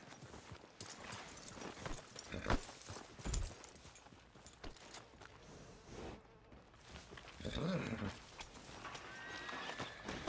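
A horse in the Red Dead Redemption video game clip-clops on its hooves, snorting and whinnying among rustling outdoor ambience, with the overall level quiet and a brief louder stretch near the end.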